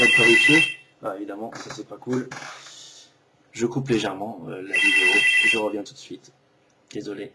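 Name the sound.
telephone ringing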